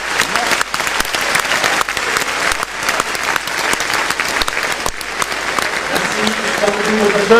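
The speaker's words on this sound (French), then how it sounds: "qu'on applaudisse tous ma charmante maman et mon papa" A large crowd applauds warmly at the Cameroonian Ballon d'Or ceremony in Yaoundé's Palais des Congrès, a loud sustained roar of clapping, with faint voices and a tonal sound rising near the end.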